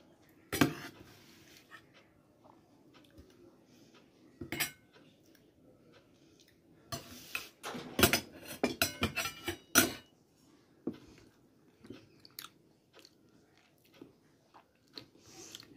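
Cutlery clinks and scrapes against a plate during a home lunch of potol posto, with scattered taps and bursts of clatter, some quiet chewing between, close and fairly soft with no talking.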